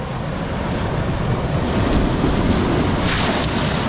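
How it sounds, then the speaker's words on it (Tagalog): Strong ocean waves breaking on the shore during a fishing outing, a loud continuous roar of surf mixed with wind buffeting the microphone, swelling slightly toward the end. "Lakas ng alon."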